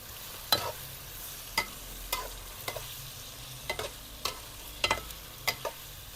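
Potatoes frying in hot oil for crispy aloo fry, with a constant low sizzle and a series of spatula scrapes and taps against the pan at irregular intervals, close by.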